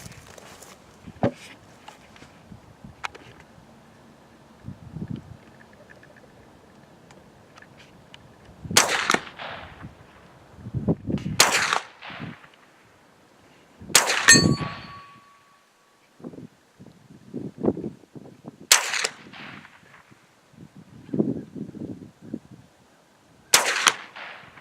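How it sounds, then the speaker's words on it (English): Test shots ring out at a target set against ballistic gel, several sharp cracks spread across the stretch, with footsteps and handling noises in between. "I'm gonna fire a test shot just to make sure it's hitting where I want it to hit"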